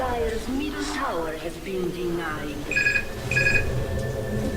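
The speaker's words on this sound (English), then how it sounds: "that's the phone." A telephone rings twice in short bursts, partly covered by someone talking over it.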